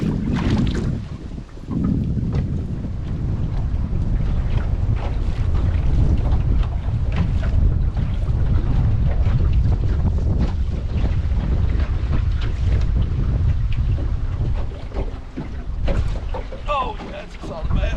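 Strong wind buffets a fishing boat on a lake, producing a loud continuous low rumble and microphone gusts, with faint knocks and water movement underneath.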